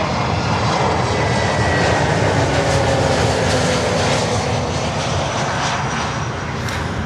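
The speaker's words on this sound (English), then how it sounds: "I definitely hear a screaming engine here" A USA Jet McDonnell Douglas MD-83 cargo jet at Miami airport screams with a loud, steady engine roar that holds broadband and unbroken throughout, with no voices.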